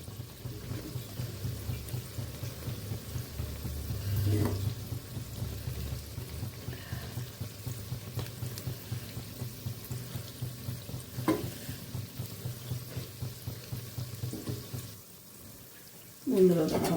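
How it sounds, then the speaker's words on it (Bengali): Malpua fritters of potato and kheer fry in oil, giving a quiet, continuous bubbling sizzle with a few stirring clinks, under some soft talk, then a sharp louder burst at the very end. "আমি এইভাবে লাল লাল করে ভেজে নিচ্ছি"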